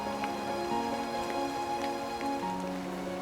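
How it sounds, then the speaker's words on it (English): Steady rain falls at a fishing lake, a dense continuous patter of drops on surfaces with scattered brighter drips, close and even throughout with no talking. "taking shelter from the rain."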